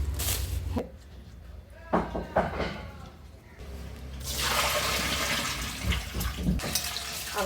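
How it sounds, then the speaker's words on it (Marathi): Water splashing and running while a dozen ripe mangoes are washed by hand in a kitchen, with intermittent splashes and a longer stream of pouring water in the second half. "आता हे आंबे चांगले धुवून झालेत"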